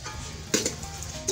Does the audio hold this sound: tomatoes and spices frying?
yes